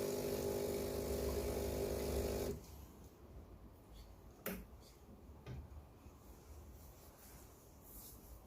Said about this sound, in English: Always flush your machine after every use.